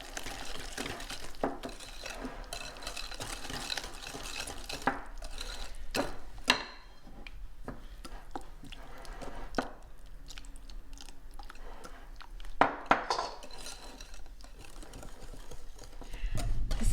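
Pumpkin pie filling being mixed in a bowl, wet squelching and stirring with intermittent clinks of a utensil against the bowl, close and uneven with brief louder knocks.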